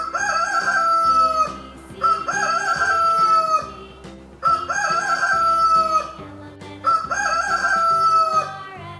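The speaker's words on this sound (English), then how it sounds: "H for hen." A rooster crows loudly and close by, four times in a row. Each crow is a long, strained cock-a-doodle-doo separated by short pauses, with no talking.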